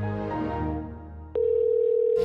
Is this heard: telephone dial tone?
yes